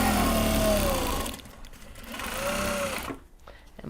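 Sewing machine stitching canvas fabric for a Japanese fabric tote bag, running in two steady bursts with a brief pause between them and a rising-falling motor whine, close up.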